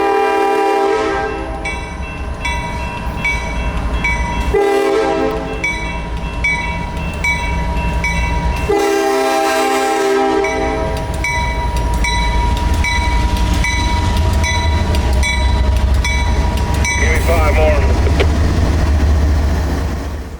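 CSX yard switcher 0705 at the Tropicana yard in Bradenton builds a loaded train at the loading docks, its diesel engine rumbling steadily close by under repeated loud horn blasts.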